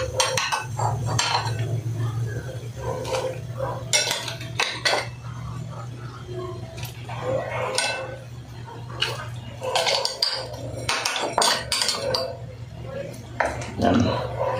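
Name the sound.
fish being put into a cooking pot, utensils clinking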